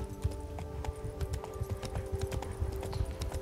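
Roach, a horse in The Witcher 3: Wild Hunt – Blood and Wine, gallops with rapid, steady clip-clop hoofbeats on the ground, close and continuous, over a faint game ambience with no talking.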